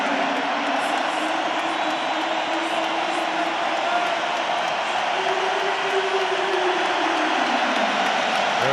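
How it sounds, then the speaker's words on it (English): A French rugby crowd in Paris roars steadily through a France v England Six Nations match, a dense, continuous wash of massed voices with commentary talk over the top. "you can hear the French crowd trying to lift the team"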